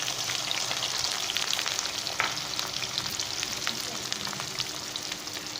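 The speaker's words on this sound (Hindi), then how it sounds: "सबसे पहले मैं प्याज शामिल करता हूँ।" Onions sizzle steadily in hot cooking oil that was salted first, making a dense, continuous crackle with sharp pops throughout. It is loud and close, with no talk.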